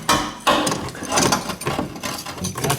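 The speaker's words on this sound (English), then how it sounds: "Maybe when I move this clamp 100 times, this becomes loosened" A rusty steel clamp on a fuel line hose is worked back and forth with pliers, giving a close, rapid series of scraping metallic clicks and grinding creaks.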